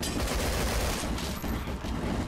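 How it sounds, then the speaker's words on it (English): Gunfire in the video game Contagion rattles in a dense, continuous fusillade of rapid shots, loud and close throughout without talk. "Based on the sounds of gunfire, I assume he's downstairs."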